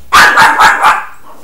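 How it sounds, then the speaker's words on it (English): A small dog barks four times in quick succession, loud and close, each yap sharp and evenly spaced, then falls quiet. "Telling that little dog off."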